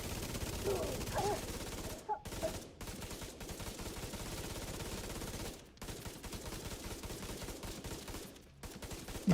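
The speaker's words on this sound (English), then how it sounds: "I'm gonna shoot directly in." Rapid bursts of gunfire from a shooter video game, dense and loud throughout with a few sharp breaks and dropouts, layered over busy game effects.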